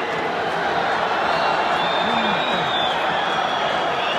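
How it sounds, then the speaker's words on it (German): Stadium crowd roaring in celebration after a Real Madrid goal against SC Braga, a dense, loud, continuous wall of cheering and clapping with scattered shouts up close. "Da ist er wieder, der Jubel."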